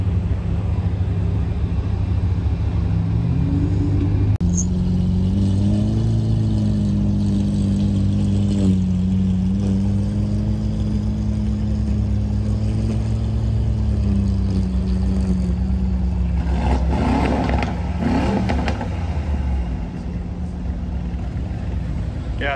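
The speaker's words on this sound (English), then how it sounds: "I don't know if he thinks that sounds cool, but it doesn't. There's something wrong with your muffler." A car with a faulty muffler revving at a rally starting grid in Las Vegas: a droning engine rises and falls in pitch through several revs, loud and close, with faint crowd noise behind it.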